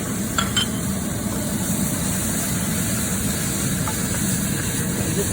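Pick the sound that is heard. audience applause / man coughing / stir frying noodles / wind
stir frying noodles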